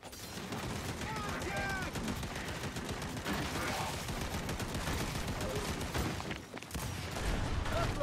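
Gunfire in a shooter video game comes as rapid, dense bursts of shots over several seconds, with a busy game soundtrack underneath.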